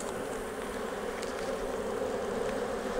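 Honey bees fanning at the hive during supercedure, a dense, continuous buzzing hum that stays steady and close throughout, with no voices.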